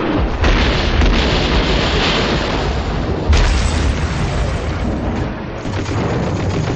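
German artillery shells exploding at Stalingrad, a loud continuous roar of blasts with heavy booms and a fresh burst midway, dense and overwhelming with no voices.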